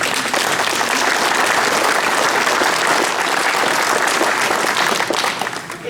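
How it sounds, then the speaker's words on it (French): Sustained applause from an audience filling a gymnasium at its inauguration on Oléron, a dense even clatter of clapping that holds loud throughout and tapers slightly at the end. "Oui, vous pouvez les applaudir."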